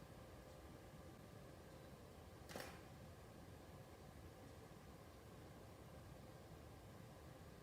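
A single quick camera shutter click at 1/200 shutter speed while photographing lipsticks, faint against a steady background hiss, with nothing else happening.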